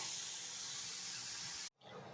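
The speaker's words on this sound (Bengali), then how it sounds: "ফুলকপিগুলো তেলের মধ্যে দিয়ে দিয়েছি" Cauliflower frying in refined oil in a wok, a steady loud sizzling hiss that cuts off abruptly near the end, then resumes more quietly.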